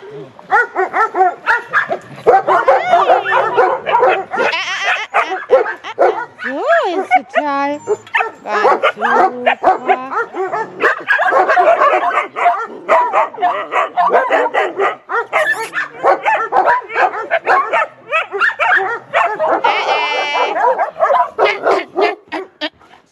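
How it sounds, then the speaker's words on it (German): Puppies bark, yip and whimper in quick, busy bursts, close and loud, with someone talking to them in between. "Du gibst aber auch so viel zu bellen"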